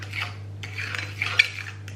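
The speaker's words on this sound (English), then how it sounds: "So I'm going to first mix up the different cheeses." A fork scrapes and clinks against a bowl while mixing different cheeses, a steady run of light scraping strokes with a few sharper metallic taps near the end, close and fairly quiet over a low steady hum.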